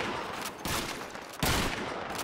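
Sustained volleys of gunfire in Call of Duty 2, a dense continuous fusillade with sharper bursts swelling about midway and again near the end, loud and close with no voices.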